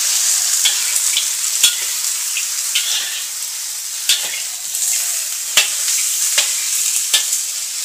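Food is stir-fried in a hot pan for a home-cooked pork trotter vinegar dish, with a loud continuous sizzle and irregular scrapes and clacks of the stirring utensil close up. No talk.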